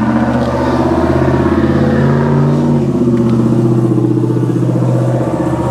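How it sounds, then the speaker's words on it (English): A small truck with a loud aftermarket muffler rumbles past, its engine droning in a steady pulsing growl with pitch shifts as it revs, loud and close throughout. "That's the little weenie truck."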